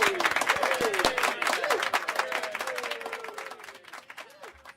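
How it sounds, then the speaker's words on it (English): An audience claps at a fantasy football talk show. The dense applause starts strong and gradually fades over several seconds while a voice talks over it. "Let's give a round of applause for that."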